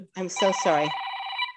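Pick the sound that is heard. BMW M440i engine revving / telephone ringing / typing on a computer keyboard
telephone ringing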